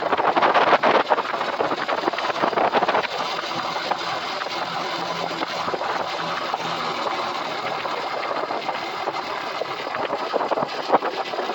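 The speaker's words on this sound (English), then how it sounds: "Certainly not a motocross bike, but perfectly happy here on the little gravel roads." An Ice Bear Champion CT70-clone mini trail bike rides along gravel roads, its small engine droning steadily and loudly under heavy wind buffeting on the microphone, with no pauses.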